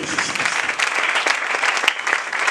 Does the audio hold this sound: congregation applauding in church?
yes